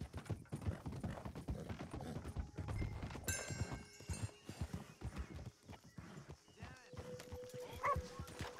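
Horse hooves clip-clopping in a video game, a rapid repeated clatter of hoofbeats with a whinny and game sound effects layered over it, and people talking over the top.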